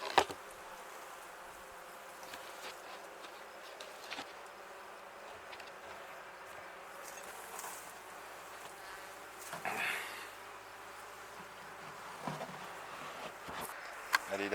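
Honeybees buzzing around an open beehive during a pre-harvest inspection, a faint continuous drone with scattered handling clicks and rustles nearby.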